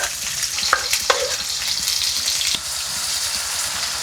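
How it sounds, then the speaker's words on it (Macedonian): Food sizzles steadily in a hot pan on the stove, a constant frying hiss with a few sharp clinks of a utensil near the start, no talking. "Кога јас го пржам ова"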